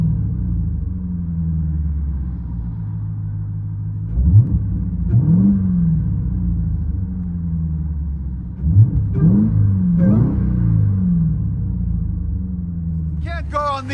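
Inside a Jeep Trackhawk with a supercharged 6.2L V8 and aftermarket exhaust, a deep steady drone rises into two bursts of revving, each swelling and falling back, heard from the cabin.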